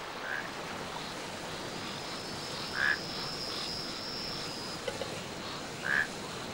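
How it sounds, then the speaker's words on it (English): Frogs croak in a tropical forest, a few separate calls standing out at intervals over a steady hiss of insects and ambient noise, fairly distant and moderate in level. "Much of the prevailing noise in the forest came from the humble frog, and when several were together, they sang in harmony on different notes."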